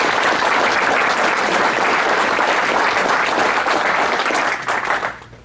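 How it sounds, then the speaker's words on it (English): Audience at a club event breaks into a sustained, loud round of applause, dense clapping from many hands holding steady before tapering off near the end. "A round of applause."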